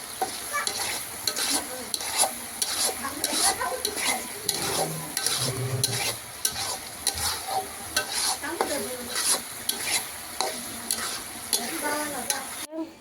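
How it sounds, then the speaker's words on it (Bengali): Spice paste being stir-fried in a pan, with steady scraping and stirring strokes repeating every second or so over a low background sizzle, close and fairly loud with no talking. "ভালো করে একটু মশলাটা কষাই নেবো"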